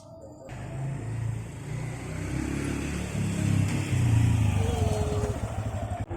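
A motorcycle rolls up close, its engine note building from a low rumble into a loud revving growl before cutting back to an uneven idle sputter as it stops.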